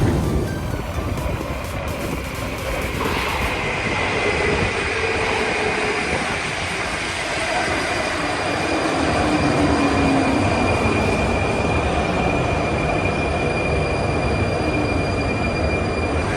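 A Prague metro train rolls loudly through the underground, a dense roar of wheels on rails with high, sustained squealing tones as it runs on.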